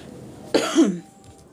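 One sharp, close cough bursts out and trails off into a rough throaty rasp, with quiet room tone before and after.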